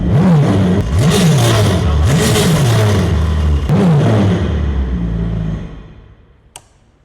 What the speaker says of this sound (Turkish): Jetimiz şu an aktif bir şekilde çalışmakta.